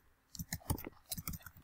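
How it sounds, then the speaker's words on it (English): A computer keyboard key, the Y key, is pressed repeatedly while it does not work, giving a string of close, sharp plastic clicks in two quick bursts with short pauses between them. "I'm pressing the Y key right now and nothing's happening."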